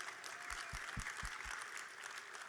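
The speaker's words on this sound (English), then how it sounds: "Can we give you all a big round of applause?" Steady audience applause fills the room, a dense wash of many hands clapping at an even level from start to finish, with a few louder individual claps standing out near the front.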